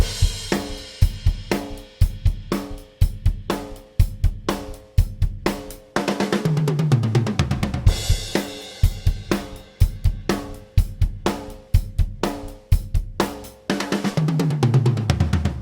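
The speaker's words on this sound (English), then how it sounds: "So if you put a simple drum fill at the end and then hit a crash cymbal at the start again," A simple rock drum beat repeats with steady kick, snare and hi-hat, then a drum fill rolls down the toms and a crash cymbal lands as the groove restarts; loud, close and without voices.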